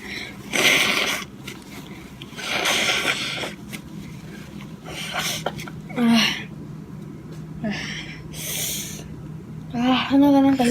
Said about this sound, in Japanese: くしゃみが出ます